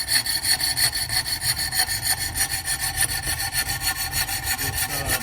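A Magic Saw with a diamond wire blade cuts through a piece clamped in a vise, giving a steady, close rasping stroke rhythm that runs throughout, with no talking.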